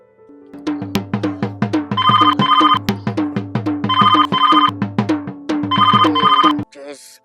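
A mobile phone ringtone plays a repeating electronic melody in steady rhythmic bursts, loud and close, running for about seven seconds before cutting off.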